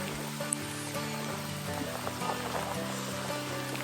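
Rain patters steadily against a surface at a campsite in Tanay, a dense, even hiss with occasional louder drops.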